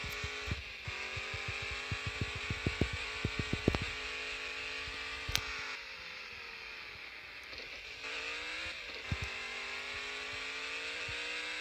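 A homemade off-road speed buggy drives along, its engine droning steadily with short rapid bursts and revs early on, then settling into a continuous hum that shifts in pitch as it moves.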